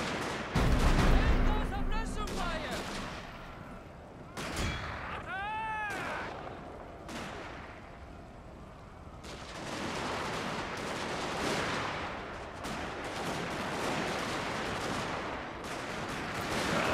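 Cannon artillery fire from Shogun 2: Fall of the Samurai on the Choshu side, a burst of heavy booms followed by scattered shots and rumble under a busy battle din, with a voice speaking over it.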